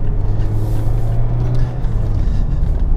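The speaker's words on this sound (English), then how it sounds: "There is a bit more road noise." Steady low road noise rumbles inside a Mazda MX-5 RF sports car, with a constant droning hum and tire roar, loud and close, no voices.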